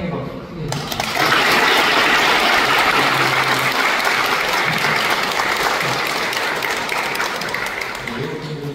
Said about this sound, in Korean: 우리 환영의 박수 크게 해주시죠